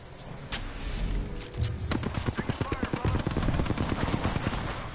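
Gunshots in a video game, a steady rapid stream of automatic fire that begins about two seconds in and runs to the end, loud and close, with a low rumble under it.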